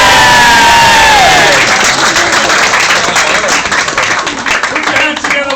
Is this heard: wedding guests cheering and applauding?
yes